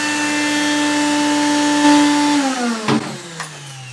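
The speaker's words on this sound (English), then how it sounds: "the vacuum pump just gets it totally empty" A vacuum pump drones steadily while emptying a urine collection container, its tone holding level before dropping in pitch as it finishes, ending with a short clunk and a lower, fading hum.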